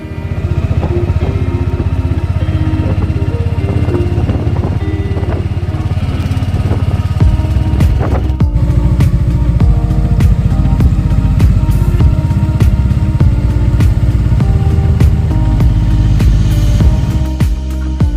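An auto rickshaw engine drones loud and close while climbing the Nelliyampathy ghat road, a continuous laboring hum that shifts in pitch partway through and carries on without speech.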